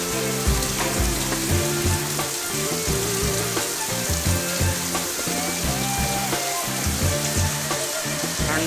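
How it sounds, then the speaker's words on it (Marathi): Heavy unseasonal rain pouring down in a dense, loud, unbroken hiss, with lower rumbling tones pulsing underneath and no voices. "एवढा पाऊस पडत चालू आहे आता."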